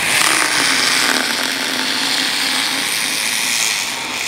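A dental drill bevels a sharp tooth edge, giving a steady, loud, high-pitched whine that runs unbroken for a few seconds, close by and without talk.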